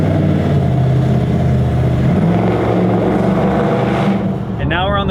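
A 2004 Chevy Silverado with a cheap eBay exhaust cutout, driven with a constant exhaust drone and rattle from inside the cab, loud and steady. A voice speaks near the end.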